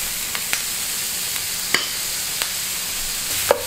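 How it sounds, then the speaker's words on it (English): Minced meat browning in a pan with onion and garlic for a cottage pie, giving a steady soft sizzle punctuated by a few sharp clicks and scrapes of stirring. "Brown the meat in the salt and the pepper and the herbs."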